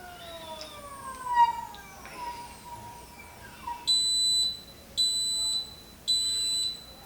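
An Anycubic Wash and Cure station signals the end of its cycle with three loud, evenly spaced electronic beeps, each lasting about a second, after some quieter tonal chirps.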